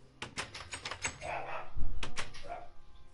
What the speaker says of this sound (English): Oh, there goes my dog.